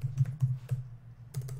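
Close, quick keystrokes on a computer keyboard while someone codes, several clacks in an uneven rhythm, a brief pause, then a few more taps, with no voices.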